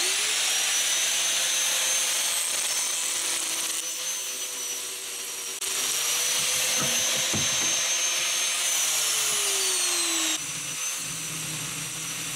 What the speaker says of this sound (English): Let's get grinding.